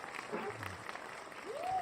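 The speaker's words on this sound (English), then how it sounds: "Man, give that man a round of applause." Studio audience at a talk show bursts into steady applause lasting a couple of seconds, with a few whoops and voices riding over the clapping at moderate volume.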